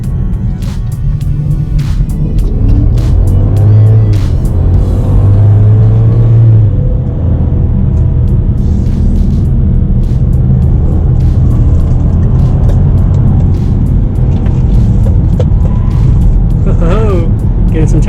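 An Infiniti QX70 on snow tires, fitted with a strut bar, rumbles steadily through tight turns, engine and road noise continuous and near, with a voice talking over it.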